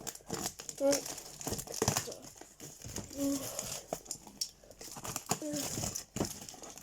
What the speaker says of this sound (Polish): chcę wam e, pokazać jak to otwieram